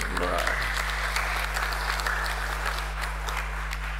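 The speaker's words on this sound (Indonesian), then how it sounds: "Tepuk tangan dulu buat Pak Bander." Applause from a church congregation carries on steadily throughout, with a voice speaking briefly at the start and a low electrical hum underneath.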